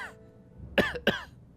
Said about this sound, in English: I wonder if he has anime cough